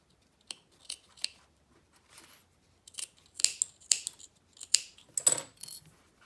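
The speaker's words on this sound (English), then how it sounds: "we're just gonna trim off this corner and trim down the short edge" Scissors trimming a fabric corner and short edge for a handbag, a series of close, crisp snips in irregular bursts with quiet pauses between cuts.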